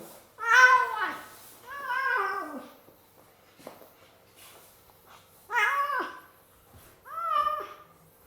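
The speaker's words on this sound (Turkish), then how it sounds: "Dişi bir kedi." An agitated female cat, angry and defensive, lets out loud drawn-out yowls and growling meows in four separate bursts, with quiet pauses between them, close to the listener.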